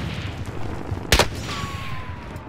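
One sharp, loud gunshot cracks midway through a quiet stretch of Call of Duty: Modern Warfare play, followed by a thin whistling tone as the sound fades.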